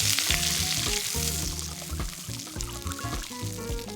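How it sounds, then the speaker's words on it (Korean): Chopped vegetables sautéing in a pan as Rosso di Montalcino PDO red wine is poured in, a loud close sizzle and bubbling with splashing liquid over continuous frying. "팬에 다진 채소를 가볍게 볶다가 로쏘 디 몬탈치노 PDO 레드와인과"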